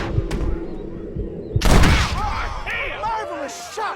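Gunfire in Red Dead Redemption: a sharp, loud shot bursts out midway over a rumbling background, preceded by fainter cracks and followed by ringing, whistling tails, with voices speaking around it.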